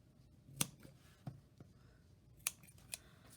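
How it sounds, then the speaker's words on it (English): Scissors snipping thread tails off a hand-stitched paper puppet, a few sharp, quiet close-up snips spaced irregularly over a soft room background, with no talking. "I'm going to cut mine off."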